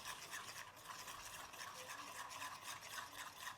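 A spoon stirs sesame paste into sesame oil in a bowl, making a soft, faint, continuous wet scraping and swishing close by, with no talking.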